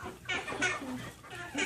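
Backyard chickens cluck close by in a quick run of several short, throaty clucks and murmurs.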